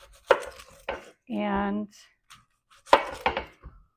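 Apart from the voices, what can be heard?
chopping red onions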